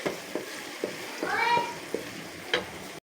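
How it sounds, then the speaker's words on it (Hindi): Chopped onions sizzle in hot oil in a kadai, with a steady frying hiss punctuated by regular scraping stirs, close up, and a voice briefly speaking over it. "एक कढ़ाई में हमने ऑयल गरम कर लिया है। अब हम इसमें प्याज फ्राई कर लेंगे।"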